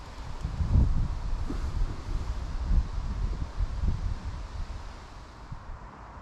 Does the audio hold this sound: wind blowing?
yes